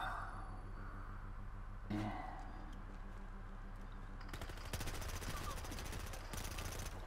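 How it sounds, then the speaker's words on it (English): Gunfire in the multiplayer shooter Battlefield Hardline: a faint thump, then rapid automatic bursts crackling in the background, fairly distant and low in level. "Who's shooting at me?"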